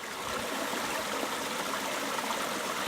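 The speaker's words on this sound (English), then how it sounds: "look at this amazing waterfall" A waterfall and stream along a hot springs hiking trail pour in a steady, dense rushing roar, close and constant for the whole stretch, with no voices over it.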